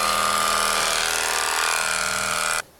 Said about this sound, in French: vous pouvez faire la tête entièrement, soit avec cette tondeuse-là, soit une tondeuse plus petite